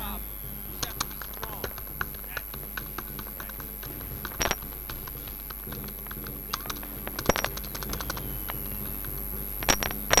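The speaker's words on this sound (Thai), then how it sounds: "ก็อยากจะฟังเสียงคีย์บอร์ดให้ชัดก็ฟัง" Computer keyboard typing during a gaming session, irregular clicks and clattering bursts of keys at close range, fairly quiet, with a few sharper louder strikes scattered through.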